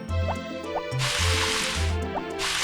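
Watering crops with a watering can in the Harvest Moon video game: short, chirpy water-pouring effects repeat about every half second, interrupted by a longer splashing hiss, all over bouncy background music.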